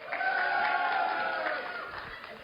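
Crowd cheering and clapping for Diane at an end-of-year celebration, a loud collective shout that holds and then fades, with scattered claps trailing off.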